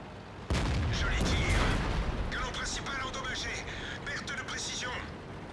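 Gunfire in a 3-on-3 tactical shooter match, a burst of sharp reports starting abruptly near the beginning and carrying on as dense, echoing battle noise with rapid crackling shots throughout.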